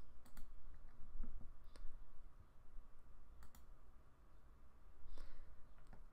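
Sharp, quiet clicks of a computer mouse sound at irregular intervals, some in quick pairs, over a soft room hum.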